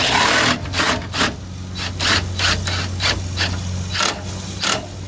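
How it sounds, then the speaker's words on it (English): A 20-volt cordless drill whirs in short bursts, cranking an RV stabilizer with repeated rhythmic pulses and brief pauses, close and fairly loud. "using a 20-volt drill is a lot easier than having to crank this thing."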